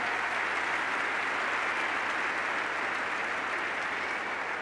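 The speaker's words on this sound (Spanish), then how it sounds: "Fuerte aplauso, por favor." Audience applause at the Madrid Economic Forum, a steady wash of clapping from a seated crowd, moderately loud and sustained for several seconds with no talking.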